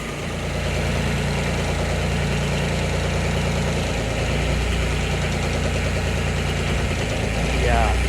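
A Kubota RTV900 utility vehicle engine idles after a cold start in sub-zero weather, a loud, close, steady rumbling chug with a slightly rough knocking beat, and someone talks over it.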